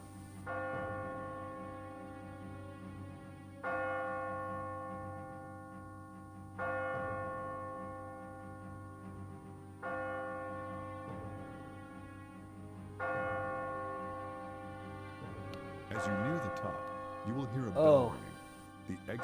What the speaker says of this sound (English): The bell rings every time you find an exit.